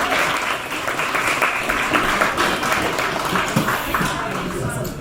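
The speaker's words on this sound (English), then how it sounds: "Please give a huge round of applause for your next comedian, Marcus Atkins." Comedy-club audience at a brewery applauding and cheering an incoming comedian, a steady dense wash of clapping held at full level throughout.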